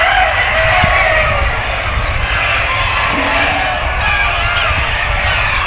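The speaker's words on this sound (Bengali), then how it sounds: "এখানে মূলত সবগুলো সোনালী মুরগি পালন করা হয়।" A large poultry farm of Sonali chickens gives a dense, loud, continuous mass of clucking and crowing from many birds, with a voice faintly underneath.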